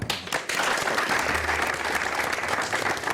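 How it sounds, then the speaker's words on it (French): Audience applause at a televised sports programme, a steady, dense wash of clapping that swells after a brief opening and continues loudly to the end. "oui, ça s'applaudit"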